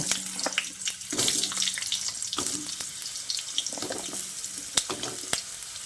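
Cut potatoes drop into hot oil with tempered spices for a mixed vegetable curry, giving a steady close sizzle and crackle broken by scattered sharp pops and stirring clicks.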